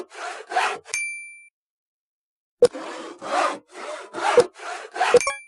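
A small, bright chime rings out in the Crafting Kingdom video game as a log finishes producing, set among repeated rasping wood-sawing strokes, with another short ding near the end.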